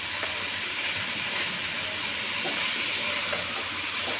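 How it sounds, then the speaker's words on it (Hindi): Spices frying in a pan for a pizza roll paratha filling, a steady close sizzle and hiss running unbroken throughout with faint stirring scrapes, no talking. "और मसाले भी खूब अच्छी तरह फ्राई हो जाएंगे।"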